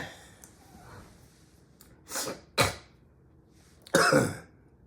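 Several short throaty coughs and throat clearings, close and fairly loud, spaced a second or so apart with quiet breathing between.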